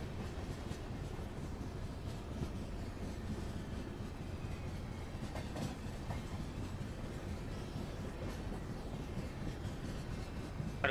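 A goods train in Microsoft Train Simulator rolls past on an Indian line near Nasik Road, giving a steady, fairly loud rail rumble with continuous wheel clatter that holds evenly throughout.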